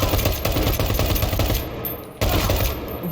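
Dense, loud automatic gunfire rattles without pause in the video game Medal of Honor: Warfighter. It dips briefly near the two-second mark, then resumes just as hard.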